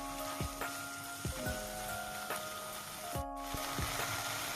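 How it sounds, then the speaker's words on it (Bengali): Bengali spice paste for egg curry frying in oil, a steady close crackling sizzle like light rain, broken by a few sharp clicks of a spoon against the pan. "যতক্ষণ না তেল ছেড়ে আসছে আর একটা সুন্দর ভাজা ভাজা গন্ধ হচ্ছে ততক্ষণ এটাকে আমি ফ্রাই করব বা কষাবো।"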